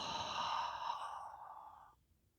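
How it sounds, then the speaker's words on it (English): A long, soft releasing exhale during a yoga stretch, breathy and close, fading out into quiet after about two seconds. "Nice inhale and releasing exhale."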